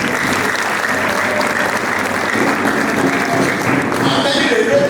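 Sustained applause from an audience at an alumni lecture, steady dense clapping filling the whole stretch at even loudness, with faint crowd murmur beneath.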